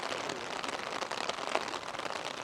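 Heavy rain falls near Mount Fuji in Japan, a soft, steady patter and hiss of drops on surfaces, fairly quiet and unbroken throughout.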